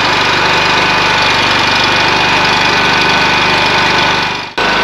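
A warmed-up engine on a farmer's homemade diesel/petrol hybrid contraption runs loudly and steadily, a dense continuous drone close by that cuts off abruptly near the end.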